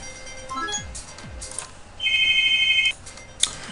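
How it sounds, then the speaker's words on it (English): A mobile phone ringtone sounds briefly, a steady electronic tone lasting about a second over faint room background, with a few clicks around it. "Sorry about that, had to go and answer my phone."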